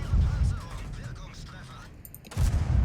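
Heavy tank cannon shots boom in World of Tanks, a loud low blast at the start and another near the end, with a burst of game noise and a voice talking in between.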